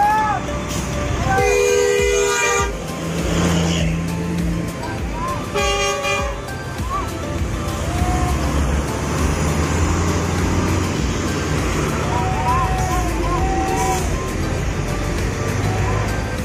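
A new Gunung Harta bus, fleet number GHTS 026 bound for Madura, maneuvers to park amid busy traffic, with repeated loud horn toots, engine rumble and road noise, and someone talking throughout.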